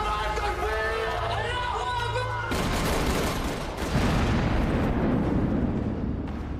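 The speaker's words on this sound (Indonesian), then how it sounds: "Di dalam hotel, terlihat di sana masih terjadi baku tembak antara tim khusus dan teroris" Gunfire from an exchange between a special forces team and terrorists inside a hotel during the Mumbai attack in the film Hotel Mumbai, dense bursts and blasts building into a heavy, continuous barrage over a tense musical score.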